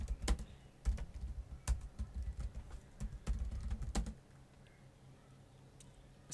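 Keys clatter on a computer keyboard as a command is typed, a quick, close run of uneven keystrokes for about four seconds before the room falls quiet.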